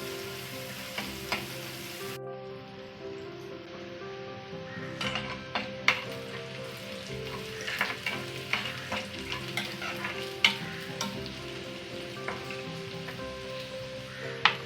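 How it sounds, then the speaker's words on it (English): Chopped onion sautés in hot oil with hing for egg curry, a soft steady sizzle with frequent light clicks and scrapes of stirring, with no talking. "add 1 chopped onion and saute until they become translucent"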